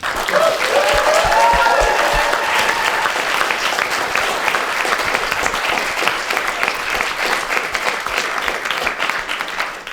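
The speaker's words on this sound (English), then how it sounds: "if we could please just have once more a round of applause for our fantastic speakers this evening" Sustained audience applause for the speakers at a TEDx university event, a loud dense round of clapping that stays steady for about ten seconds with no talk over it.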